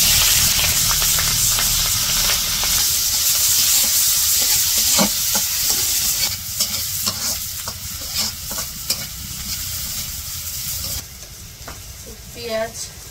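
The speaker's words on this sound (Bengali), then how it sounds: "পেঁয়াজ আর কাঁচামরিচ একটু ভেজে নিলাম" Onions and green chillies fry in a pan with cumin for a Bangladeshi village fish curry, giving a loud steady sizzle with scraping stirs that thins out near the end.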